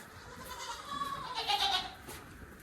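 Goat bleating on a small milk-goat farm, a few wavering nasal calls rising and falling close to the microphone, fairly loud with no talk over them.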